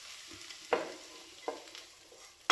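Shallots tossed into a pan of cooked prawns, a low frying hiss with a few sharp, distinct stirring scrapes spaced about a second apart, close and clear.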